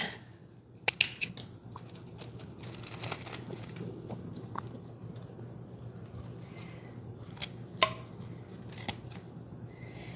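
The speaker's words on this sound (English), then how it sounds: "Scissors acting like they're needs to be sharpened here" Dull scissors snip through gem wreath materials in a series of sharp, uneven clicks and crunches, several louder cuts standing out over a quiet room tone.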